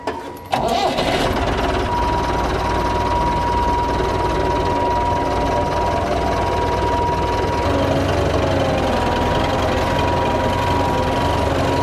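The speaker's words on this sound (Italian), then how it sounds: "Ragazzi, sposto il trattore" John Deere 6R 185 tractor engine starting with a brief clatter, then settling into a steady close diesel idle with a thin whine, heard alone.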